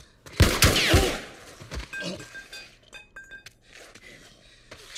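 Close, loud gunfire from Ellie's gun in The Last of Us Part I: a few sharp bursts early on, then glassy clinks and scattered softer impacts, with shouted voices in the mix.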